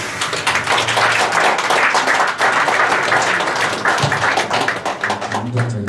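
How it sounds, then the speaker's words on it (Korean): An audience gives loud, sustained applause to welcome a professor to the stage at a lecture, dense clapping filling the room steadily for several seconds. "큰 박수로 맞아주시기 바랍니다"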